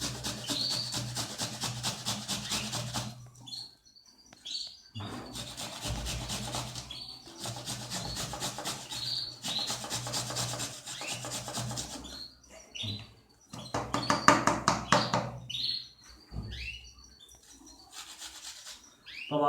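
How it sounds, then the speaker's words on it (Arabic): A peeled onion is rubbed against the fine side of a grater in quick rasping strokes, grouped in bursts of a few seconds with short pauses between, close and fairly quiet, with no voices. "بصلة مقشرة مبشرة بالجهة الناعمة"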